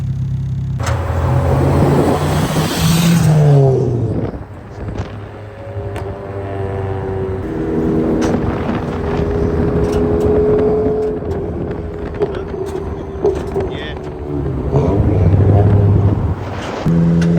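A turbocharged Honda Civic with a custom full exhaust drives past loudly, with a deep droning exhaust note that rises and falls as it revs and shifts, changing pitch through the gears for the whole stretch.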